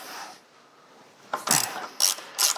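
Ratchet wrench clicking on a bolt fitted with copper washers on a 1967 John Deere 710 transmission, a few short bursts of close mechanical ratcheting after a quiet start.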